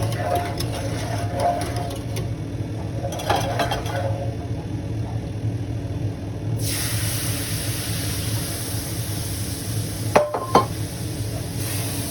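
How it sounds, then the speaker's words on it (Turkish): Semolina halva is stirred in a pot, a soft rhythmic scraping and faint sizzle under a steady background hum, with a couple of louder clinks near the end. "Şimdi biraz bir karıştıralım"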